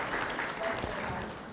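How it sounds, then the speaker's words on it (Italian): Applause fills the room for school students from the Istituto Comprensivo Don Lorenzo Milani in Cosenza, a loud, dense burst of clapping that runs through the whole moment with crowd noise mixed in. "facciamogli un applauso"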